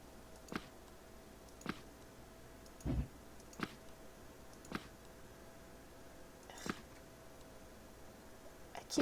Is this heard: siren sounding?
no